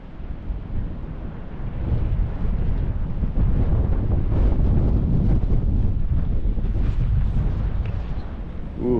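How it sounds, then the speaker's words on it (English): A strong, cold winter wind blasts across an iced-over llyn in Snowdonia. It buffets the microphone in a loud, continuous rumbling roar that swells midway, with no talking. "Ooh, that wind is cold though."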